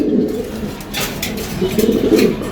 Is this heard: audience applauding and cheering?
no